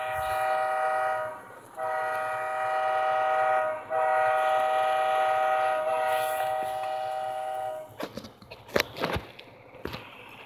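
A BNSF ES44C4 locomotive in a train simulator game runs with a sustained tonal horn blast that cuts off and resumes twice, then gives way to clanking, rattling rail noise with sharp knocks near the end.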